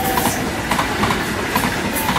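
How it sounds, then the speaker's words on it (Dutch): A train rolls through Roermond station with a steady, loud rumble and rhythmic clickety-clack of wheels over rail joints, close by and without voices. "Waarom rijden alle treinen op het verkeerde spoor nou weer opeens?"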